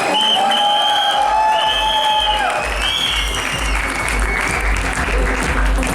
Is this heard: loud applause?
yes